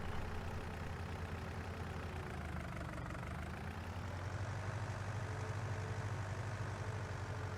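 A steady low tractor engine idle in Farming Simulator 19, from an Allis Chalmers 2WD or John Deere 2520 in an Iowa field, droning continuously and evenly at a moderate, unchanging level.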